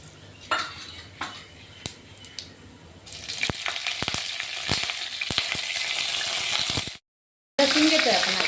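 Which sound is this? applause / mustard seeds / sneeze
mustard seeds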